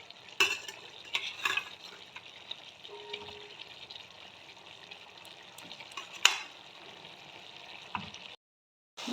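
Potatoes fry in a pan for a tengra fish curry, giving a quiet steady sizzle broken by scraping stirs and a few knocks, before a brief silence at the end.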